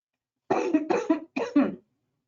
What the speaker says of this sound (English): I'm trying my best to hold back this cough.